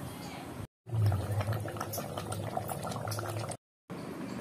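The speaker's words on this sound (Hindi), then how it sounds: "मसाला हमारा कितने अच्छे से पक रहा है, अच्छे से बॉयल हो रहा है" Chicken korma masala boils in a pot with a steady close bubbling and gurgling, cut by two brief gaps of total silence.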